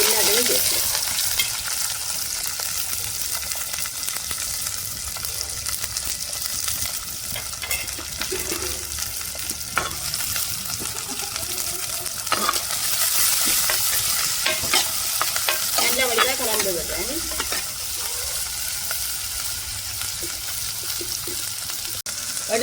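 Chopped onion and garlic with fenugreek seeds frying in a pan for a Spondias curry, a steady close sizzle with occasional spoon stirring scrapes throughout, no talk.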